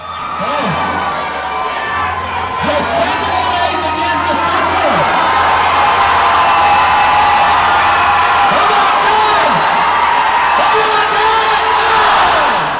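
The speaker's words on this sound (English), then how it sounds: "people are cheering for me to hang on" A crowd at a CrossFit competition cheers loudly and continuously, with whoops and shouts rising above a dense roar of voices, urging a competitor to hold on to the bar.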